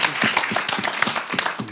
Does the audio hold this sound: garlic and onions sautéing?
no